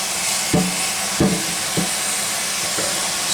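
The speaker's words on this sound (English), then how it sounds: "I'm going to wash them off with this cold water" Cold water running over a batch of shredded potatoes, a loud, steady rushing hiss broken by a few dull knocks and splashes as the potatoes shift.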